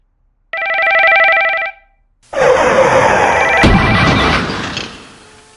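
Telephone ringing in a VR driving safety training scenario: a loud, steady electronic ring lasting about a second, a short pause, then a loud, dense crashing roar of broadband noise with a sharp hit partway through.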